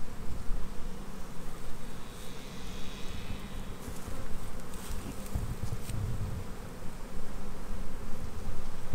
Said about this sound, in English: Dislodge most of those bees.